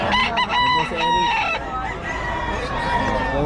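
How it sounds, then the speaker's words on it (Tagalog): Gamecock roosters of a Boston Raptor fighting line crow loudly and close by in a Filipino cockfighting breeders' setting, with several overlapping, ringing crows early on, then a rougher, fading call over a steady background murmur. "puro winning line itong mga manok ng Boss Eric"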